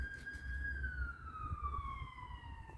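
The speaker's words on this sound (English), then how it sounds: "that siren that seems to be getting very loud" An emergency vehicle siren wails outdoors on a dark, drizzly day: one long, clear tone slowly sliding downward in pitch over a low rumble of traffic, heard from some distance, with no voices.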